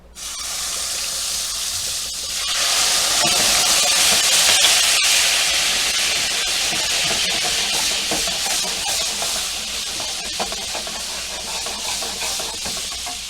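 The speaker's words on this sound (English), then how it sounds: "now we're going to add our lemon juice carefully" Lemon juice poured into hot brown butter in a pan for a flounder meunière sauce, bursting into a loud, steady sizzle that rises after a couple of seconds and holds, slowly fading.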